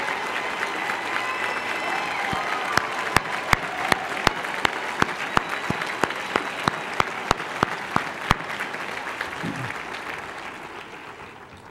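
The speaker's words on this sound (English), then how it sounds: "Please rise and accept a round of applause for your support." A law school commencement audience applauds graduates' families, a long, full roll of crowd clapping with a few sharp individual claps standing out near the front. It gradually tapers off at the end.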